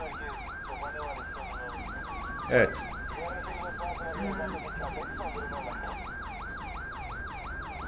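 Wailing police car siren from the GTA 5 video game, looping steadily and loudly for the whole stretch, with a brief sharp bump partway through and a short spoken word over it.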